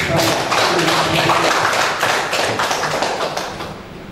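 Audience applause for expert staff at a women's working group meeting, a dense steady clatter of clapping hands with a few voices mixed in, fading slightly at the end.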